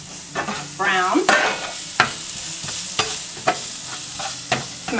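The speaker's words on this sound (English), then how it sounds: "So what I'm gonna do is start by sauteing this quinoa." Quinoa sautéing in oil in a pan gives a steady close sizzle with repeated sharp scrapes and knocks of a utensil stirring it. No one speaks.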